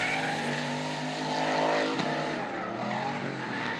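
Turbocharged LS-powered drag race cars accelerate hard out of a corner, loud engines roaring and climbing in pitch with a tearing turbo edge, close and sustained with no talking.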